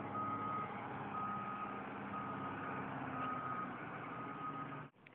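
Concrete trucks reverse with a steady, regular beep sounding over their low engine rumble, heard from a moderate distance for about five seconds before cutting off.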